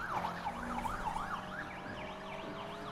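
A wailing police car siren from the Need for Speed Unbound racing game rises and falls in a steady, repeating sweep, loud and close, layered over a constant engine drone with no talk.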